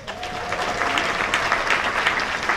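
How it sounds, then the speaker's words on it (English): Audience at a mayor's ball in Phenix City giving a round of applause, steady dense clapping from a sizable indoor crowd, fairly loud and sustained throughout. "Would you all please give them a round of applause?"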